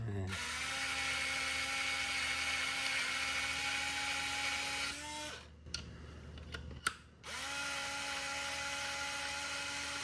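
A cordless electric screwdriver with 3-gear torque whines steadily as it drills, a close high motor tone that stops midway for some clicks and handling noise, then spins up again.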